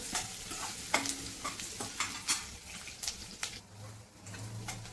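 Onion for paneer tikka masala is frying in a pan, with a steady sizzle broken by repeated scraping strokes of a spoon stirring it at close range.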